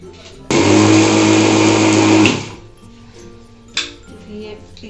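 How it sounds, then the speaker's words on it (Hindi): A kitchen mixer grinder briefly whirs at full power as it coarsely grinds sugar, a loud close burst of about two seconds that winds down, followed by a sharp clink. "थोड़ी सी मैं चीनी को हल्का सा घुमा लूँगी मिक्सी में, मीठे के लिए जो मुझे डालना है भुजियाओं में।"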